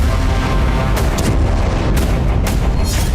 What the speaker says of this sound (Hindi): ईरान में लगातार छठे दिन धमाके हुए